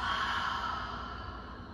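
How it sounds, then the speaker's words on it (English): A slow open-mouth exhale during yoga breathing, a soft, breathy, sigh-like rush of air fading out over a couple of seconds, close and gentle. "Inhale, open mouth, exhale"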